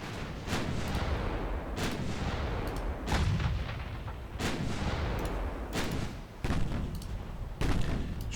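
Heavy naval artillery guns in a video game battle against a lone battleship, booming salvos landing every second or so with rolling rumbling tails, loud and steady without talk.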